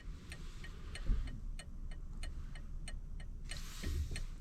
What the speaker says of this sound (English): And now the turn signal sound.